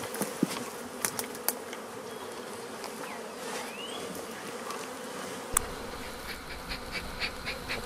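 Bees buzz in and out around a hive box set where a wild colony was rescued, a soft, steady insect hum with a few brief sharper passes close by and a slight shift in background partway through.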